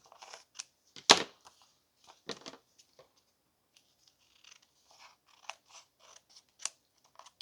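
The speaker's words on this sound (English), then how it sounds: "I'm going to cut those off. So that they're open." Envelope paper being cut with scissors: one sharp, loud snip near the start, then scattered quieter snips and paper rustles spread out, close up in an otherwise quiet room.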